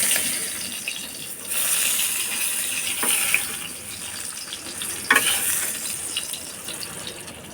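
Fried fish pieces drop into a pan of oily, well-cooked spices for a mixed vegetable dish, a steady close sizzle broken by a few sharp clinks and splatters as the pieces land and are stirred.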